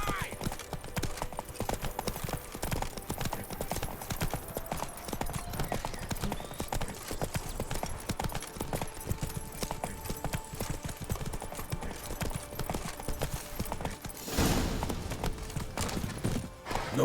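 Geralt's horse Roach trots through The Witcher 3, hooves clip-clopping in a steady, continuous rhythm, with a voice speaking over the hoofbeats.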